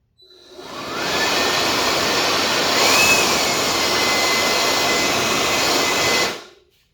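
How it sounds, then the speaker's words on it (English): A workshop air blower fires a steady, loud rushing blast of air into the air scoop of a KTM 390 Duke motorcycle, rising quickly, holding an even roar for about five seconds, then cutting off. "So I'm going to use my workshop blower, just kind of stand further back and shoot some air in there."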